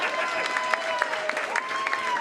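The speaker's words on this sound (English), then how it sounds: "I'll accept the applause." Applause from a comedy club audience fills the room steadily, with sharp individual claps standing out over a dense, continuous patter; no one speaks over it.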